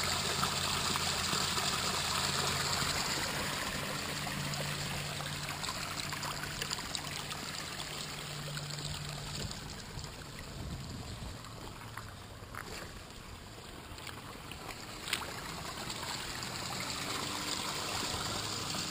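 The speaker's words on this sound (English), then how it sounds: "just let you all listen and see what you all think of that water" Steady flowing mountain water runs continuously outdoors, a soft broadband rush with faint trickling detail and a low hum underneath, no voices.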